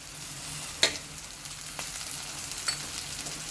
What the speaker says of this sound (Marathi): कांदा हा छान परतून झालेला आहे, त्यामध्ये आता आपण भाजी घालून घेणार आहोत।